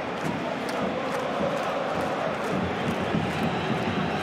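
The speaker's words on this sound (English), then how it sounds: "Crowd getting a little bit more excited than we were" A football stadium crowd swells with excitement, a dense, steady roar of voices filling the air from a distance without clear breaks.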